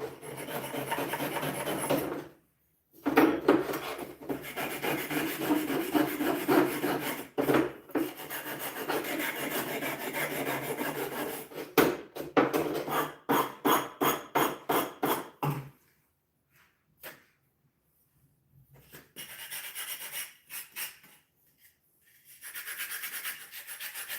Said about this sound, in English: Sanding the corners or the edges away